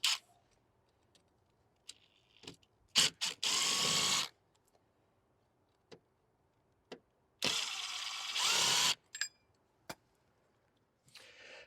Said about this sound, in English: We're now also going to remove this mounting bracket.